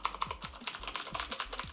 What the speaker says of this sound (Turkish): Mekanik bir klavye arkadaşlar.